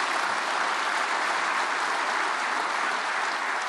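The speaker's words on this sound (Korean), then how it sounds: "우리 박수로 뜨겁게 환영하겠습니다" An audience at a Korean prayer meeting for peaceful reunification applauds warmly to welcome a speaker, with dense, steady clapping from many hands throughout and no talk.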